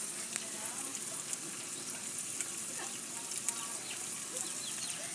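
Garlic sizzling in hot oil for homemade chili oil, a steady close crackle and spatter throughout, quiet and even with small pops, with no voices over it.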